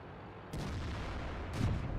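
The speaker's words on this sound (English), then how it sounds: "and now we get to unload on this T-150" Comet tank cannon shots in World of Tanks, two booming reports about a second apart, firing on a T-150, loud and close with a lingering rumble and no talk.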